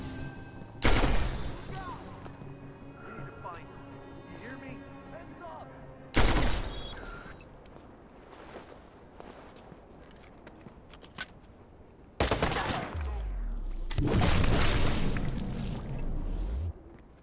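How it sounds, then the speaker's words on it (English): Gunfire in the video game Watch Dogs comes in sharp, loud bursts, with an opening volley, another a few seconds later and a longer run of rapid shots near the end, separated by quieter in-game ambience. "Where am I getting shot from?"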